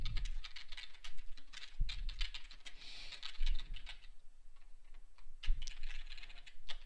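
Rapid, irregular clicking of keys on a computer keyboard as a project name is entered, steady close-up tapping with brief pauses and no talking.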